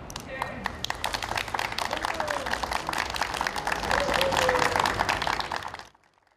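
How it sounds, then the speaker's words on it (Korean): Vigorous crowd applause outdoors in the front yard of Yeouido Baptist Church as the Christmas tree lights up, dense clapping with cheering voices building and then cutting off abruptly. "힘찬 박수 소리와 함께 성탄트리에 불이 켜졌습니다"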